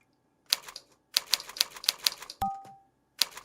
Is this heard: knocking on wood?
no